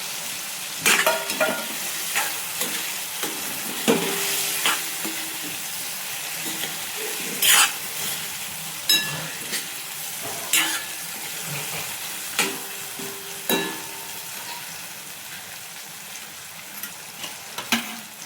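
Tomatoes with spice masala sizzle in a pan while a spoon stirs and scrapes repeatedly, a continuous close frying hiss broken by irregular clacks against the pan, with no talking.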